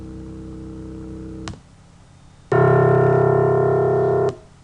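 Synthesized test tones: a faint low hum near 65 hertz, a short gap of quiet hiss, then a louder buzzy harmonic tone approximating an ocean-wave line spectrum, each starting and stopping abruptly with clicks.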